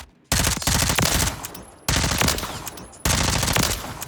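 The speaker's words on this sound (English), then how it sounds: "I'm gonna see if I could turn it into a machine gun" Automatic machine gun fire in Call of Duty Modern Warfare Remastered, three loud, rapid bursts of close shots with short gaps between them, each burst a fast rattling stream of rounds.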